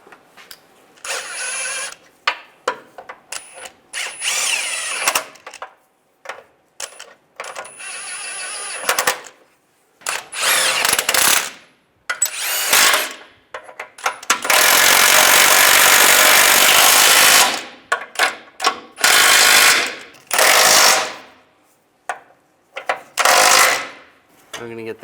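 On a 2007-2013 Chevy Silverado, a power tool tightens the timing cover bolts in repeated short bursts of ratcheting, whirring mechanical noise separated by pauses. It is close and loud, and one run is longer than the rest.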